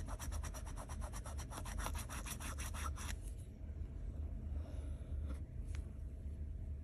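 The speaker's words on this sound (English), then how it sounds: "I hope you're having a good time scratching your ticket today." A lottery scratch-off ticket being scratched with quick, rhythmic rasping strokes for about three seconds, then softer, quieter rubbing and a few faint scrapes.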